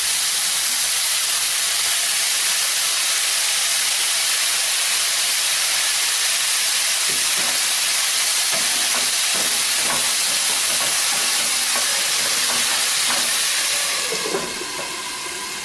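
Broccoli sprinkled with a little water steams in a covered pan, giving a steady, loud hiss with faint bubbling crackles toward the end.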